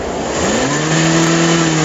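A car engine revs hard with a rising whine and a faint tire squeal as it tries to peel off during a traffic stop, loud and close for about two seconds.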